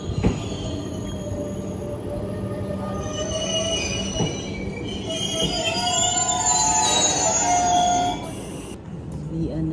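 A train runs on its rails at a station, with loud, sustained wheel squeal rising and falling over rumbling rolling noise, and a person speaks briefly near the start.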